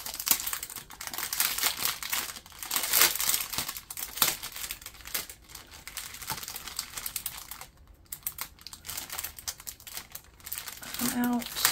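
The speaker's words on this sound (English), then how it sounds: "I apologize for the crinkles that this is going to make" Plastic packaging of a diamond painting kit crinkles and rustles steadily as it is opened, close and fairly continuous with irregular bursts throughout.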